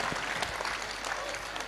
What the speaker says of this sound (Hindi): जोरदार ताली बजा करके आप सब धन्यवाद दें।